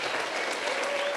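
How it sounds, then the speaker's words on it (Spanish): Congregation at a church event applauding, a dense wash of clapping hands that holds steady and fairly loud throughout the brief moment, with no voices standing out. "Dale un aplauso grande al Señor."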